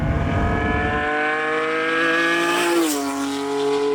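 Lamborghini Diablo SV with a 5.7-litre V12, a loud, close, deep engine rumble that settles into a steady harmonic drone, dipping slightly near the end, with no talk.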